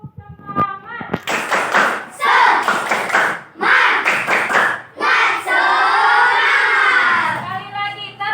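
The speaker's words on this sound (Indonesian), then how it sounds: "Sekali lagi, tepuk semangat." A class of about 25 students performs a rhythmic spirit clap in a classroom, loud patterned bursts of hand claps and thumps mixed with children's shouting voices, with a teacher's voice calling at the start.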